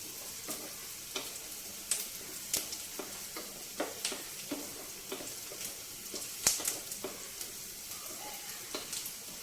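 Chopped onion and carrot sizzle steadily in a hot pan for a curry, with frequent light clicks and scrapes of stirring across the whole stretch and no talking.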